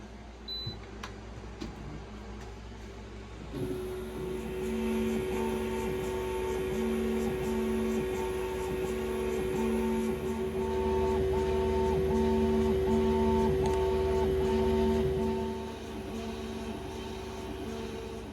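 An Xtool M2 laser engraver runs on a mini cutting board. A steady mechanical drone with tonal whine and repeating rhythmic motor pulses starts a few seconds in and continues evenly, close up, with no talk.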